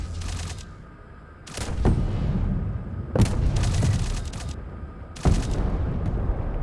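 AC-130 fire support in a sci-fi drone shooter game, with a series of loud booming impacts and bursts of gunfire over a rumbling low background, several heavy hits spaced a second or two apart.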